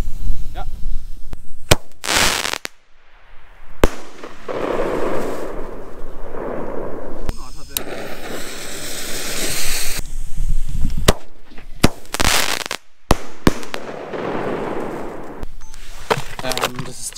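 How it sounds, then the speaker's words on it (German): A Leslie Monstro firework battery fires a rapid series of loud, sharp booms and crackling bursts outdoors over about seventeen seconds, with voices audible between the shots. "Monstro von der Firma Leslie."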